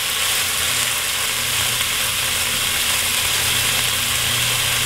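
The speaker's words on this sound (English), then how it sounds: "the meat is browning nicely" Beef browning in a hot pan gives a loud, steady sizzle and crackle that runs unbroken and close throughout, with faint clicks of stirring.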